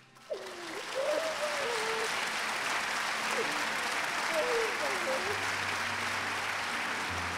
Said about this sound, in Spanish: el público del auditorio de la Nucía se puso en pie para despedir con una calurosa ovación a Lola Herrera